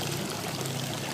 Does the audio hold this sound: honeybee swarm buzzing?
no